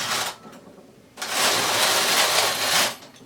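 A punch-card knitting machine carriage is pushed across a row of yarn, giving a short whirring rattle, then a longer, louder sustained sweep.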